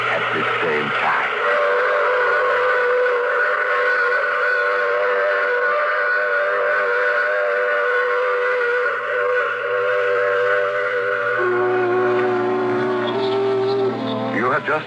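A steam train whistle used as a sound effect in an old radio mystery drama gives a long, loud, sustained multi-tone wail over a low rumble, then changes pitch toward the end.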